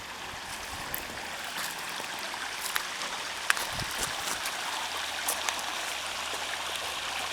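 A garden waterfall in Cartmel, Cumbria pours over rock in a steady, full rush of falling water, constant and fairly close, with faint splashes and drips scattered through it.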